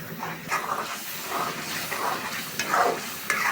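Spices are stir-fried in oil in a pan for a chicken curry, giving a continuous close sizzle broken by repeated scraping strokes of a stirring spoon.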